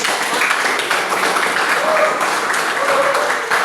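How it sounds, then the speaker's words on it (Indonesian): A classroom of vocational high school students applauds steadily, a dense, continuous wash of many hands clapping at close range, with a few voices mixed in. "Mantap sekali, tepuk tangan."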